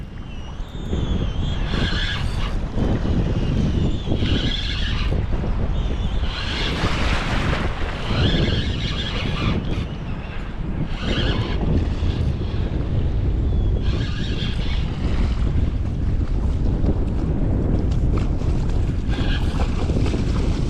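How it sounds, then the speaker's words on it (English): Strong wind buffets the microphone on a fishing boat working a current on open water, a loud continuous roar with gusty surges that stays dense for the whole stretch, with no talking. "The wind is working against me."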